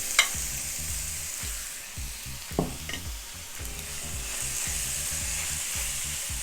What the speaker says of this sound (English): we're going to add some oil to our skillet and we are going to fry up our seafood